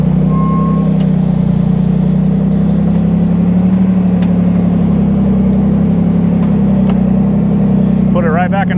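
A rear-steer buggy's engine drones steadily as it crawls through a tight pinch point on a Sand Hollow trail at the Hulse portal, with a low rumble throughout and a brief beeping tone near the end.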